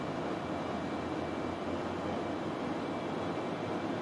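Concorde engines running at full dry power in the X-Plane 11 flight simulator, a steady loud broadband roar with no breaks.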